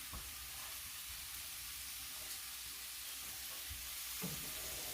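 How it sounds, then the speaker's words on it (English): Onion, scallion and jalapeno pepper sauté in a pan, giving a steady, moderately quiet sizzle with occasional soft stirring knocks, no talking. "And I'm gonna let this saute, guys, for a little bit."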